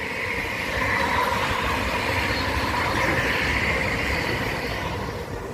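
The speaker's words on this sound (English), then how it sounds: "This train goes by." A train rolls past along a city street during a walk, producing a loud, continuous rumble and rushing clatter of railcars that swells slightly and stays steady across the whole stretch, with no voices.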